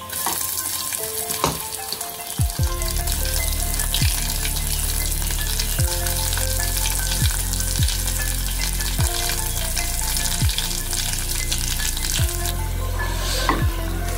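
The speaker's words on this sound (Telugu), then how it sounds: "ఇవి ఫ్రై అయిన తర్వాత దీంట్లో ఇందాక మిక్సీ పట్టుకున్న పచ్చడి వేసుకుందాం." Coriander-mint chutney hits hot tempering oil with mustard seeds and chana dal, giving a loud, constant sizzle broken by regular scraping strokes of a spoon against the pan.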